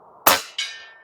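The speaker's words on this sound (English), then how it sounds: "Let's shoot that one again." A single FX Airguns Crown MkII air rifle shot fires nearby, a sharp crack followed moments later by a fainter metallic ring of the pellet striking the target, then quiet.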